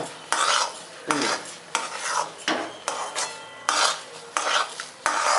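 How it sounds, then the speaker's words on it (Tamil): Rava kesari being stirred in a pan on the stove, a spoon scraping and sweeping through the thick semolina mixture in repeated strokes, close and fairly loud with brief pauses between them. "கிண்டி வச்சுக்கலாம்"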